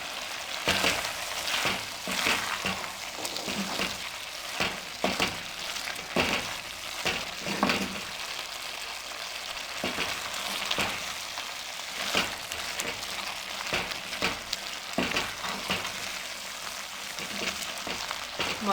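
Chicken shami kabab mixture with garam masala sizzles and fries in a kadai while being stirred, a steady close crackle broken by repeated scraping stir strokes throughout, with no talk.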